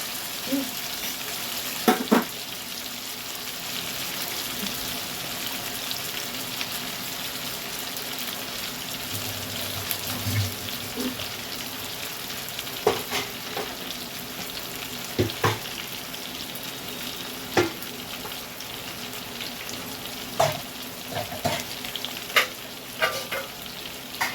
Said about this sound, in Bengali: এগুলো একটু ভালো করে ভেজে নিতে হবে।